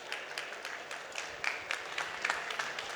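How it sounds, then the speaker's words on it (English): Applause from a conference audience after a speaker is introduced, a fairly faint, spread-out patter of clapping with a few sharper bursts, heard from a distance across the hall. "Please do give Islam a very big round of applause"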